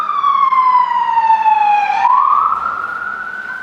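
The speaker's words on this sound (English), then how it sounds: "every time you hear like a loud car going by or sirens" A loud siren wails steadily, its pitch falling then rising as it passes, with no other sounds over it.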